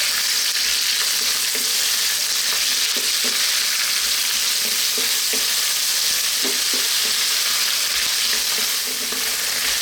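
A tablespoon of garlic ginger paste fries in a pan for a potato mushroom curry, giving a loud, close, continuous sizzle. Light rhythmic scrapes of stirring sit under the hiss.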